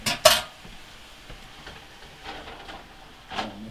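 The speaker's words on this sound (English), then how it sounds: "Mix it up nice and good" Utensil clinks and scrapes against a bowl while a garlicky mixture is stirred, one sharp clatter near the start followed by softer intermittent scraping, close and fairly quiet.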